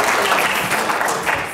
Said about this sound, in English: Once again, give yourselves a round of applause.